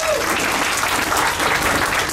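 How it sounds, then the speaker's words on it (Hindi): Dense clapping from a group of people, loud and continuous for the whole moment, with no pauses. "तो तालियां एक बार जोरदार हो जाए।"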